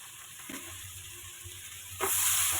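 Fried snakehead fish pieces go into a pan of well-cooked spice paste, which gives a soft steady sizzle with a couple of stirring clatters and then a sudden louder burst of hissing as the fish lands.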